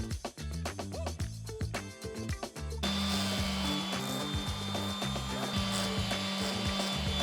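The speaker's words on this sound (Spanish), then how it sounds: "antes las voy a lijar, bien lijaditas" Cut wood pieces for the corner brackets of a homemade makeup vanity table are sanded: a few knocks and handling taps first, then a steady, loud, continuous whirring rasp that holds to the end.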